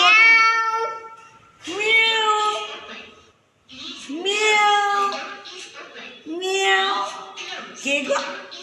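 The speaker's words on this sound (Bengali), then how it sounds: "বিড়াল ওর মাকে খুঁজছে ম্যাও" Repeated drawn-out kitten meows, calling for its mother, several in a row with short pauses, loud and close.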